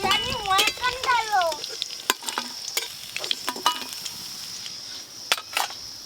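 Fish and potatoes frying in oil in a kadai, a steady close sizzle with scraping stirring strokes and a few sharp metallic clinks, while someone talks briefly at the start.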